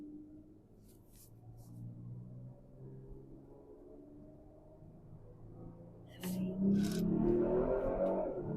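A Kia Stinger GT2 fitted with a Burger Motorsports downshift blocker pulls from second gear on a rolling start; a low engine drone builds, then surges louder as the revs climb near the end.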